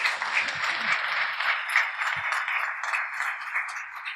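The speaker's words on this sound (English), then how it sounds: "Let's give a round of applause for our speaker" A round of applause for a speaker, a steady, even patter of clapping from a small audience, with brief soft voices underneath.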